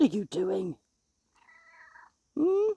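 A cat outdoors on a rainy walk gives a faint, brief meow between a person's spoken remarks, which are louder and closer.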